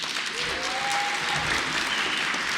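Audience at a gala ceremony in Pasadena applauding a scholarship recipient, a sustained, even wash of clapping from many hands throughout, with a faint tonal whistle or voice briefly rising above it.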